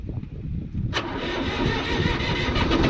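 A tractor engine cranks and catches on a farm, then settles into a steady, loud, close idle rumble.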